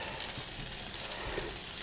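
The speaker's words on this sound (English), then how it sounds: "Smoked pancetta sizzling," Smoked pancetta sizzling in a pan in a home kitchen, a steady, dense hiss and crackle close up throughout, with no talk.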